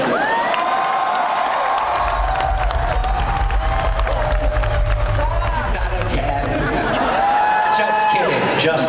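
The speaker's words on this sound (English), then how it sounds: "can we keep the applause going?" A loud crowd at a Star Wars convention cheers, whoops and applauds continuously, with shouting voices mixed into the dense roar throughout.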